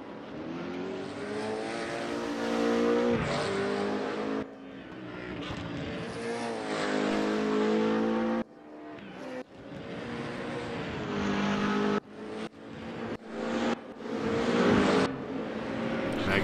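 BMW Z4 race cars racing at Laguna Seca, engines roaring and passing by in surges, loud revving with abrupt cuts between passes.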